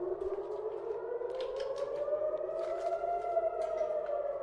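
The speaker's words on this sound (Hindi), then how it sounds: "हालांकि बाहर से सायरन बजी है तो यहाँ पे लोग जो हैं अभी शेल्टर की तरफ जाएंगे।" A civil defense air raid siren wails steadily during a missile attack, its tone slowly rising as it sounds from a distance, continuous and unbroken with faint background noise beneath.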